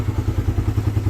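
Motorcycle engine idling just after an oil and oil filter change, a close, loud, rapid steady thumping pulse with a slight rattle.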